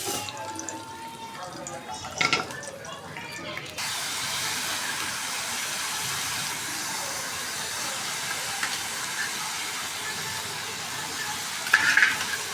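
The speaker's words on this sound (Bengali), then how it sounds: "পোলাওর জন্য পেঁয়াজ দিয়ে দিচ্ছি, বেরেস্তা করে নেব" Sliced onions fry in hot oil for pulao beresta, a steady broad sizzle with occasional stirring clatter and a brief louder scrape near the start and again near the end.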